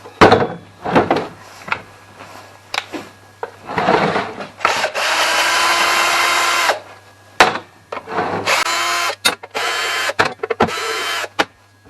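Hand tools work at the muffler of a 32-year-old Stihl 084 chainsaw during restoration, giving scraping, knocking and rubbing metal sounds in short bursts with one longer grinding stretch, close up and with no talking.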